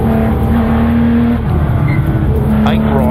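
Onboard a 1974 Porsche 911 Carrera RSR racing on the Targa Tasmania tarmac stage, its engine loud and constant at high revs with a shift partway through, wind roar over it.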